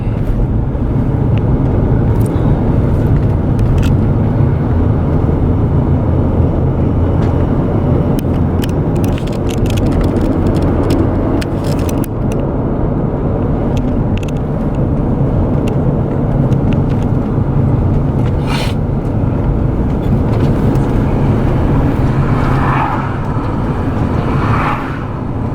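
A car drives on a road in Jamaica. There is a loud, continuous engine and tyre rumble from inside the vehicle, with steady road roar and occasional clicks and bumps throughout.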